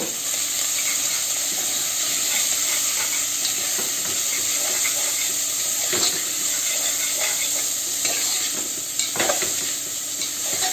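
Chopped onions stirred and sautéed in a pan for banana flower sabzi, a continuous loud close sizzle with scraping spoon strokes throughout.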